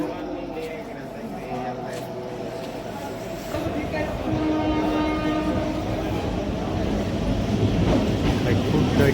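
A passenger train at Barabhum station rumbles close by, with a sustained horn tone, rolling wheel clatter and a rising roar as the train moves, while people talk nearby over the noise.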